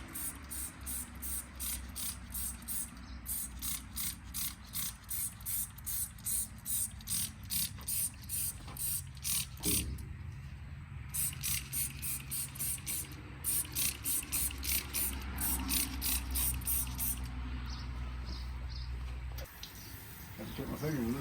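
A spray can lays down a final clear coat in quick repeated hissing bursts, a rhythmic series of close sprays with brief pauses, while someone talks in between.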